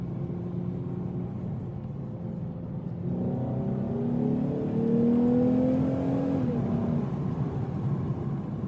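Lexus car driving with a steady engine drone and road rumble, the revs climbing noticeably mid-way into a louder accelerating whine before easing off again, heard from inside the cabin.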